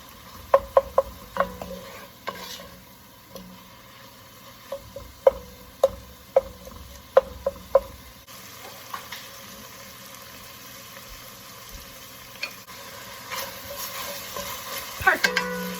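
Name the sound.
stirring sausage soup ingredients in a frying pot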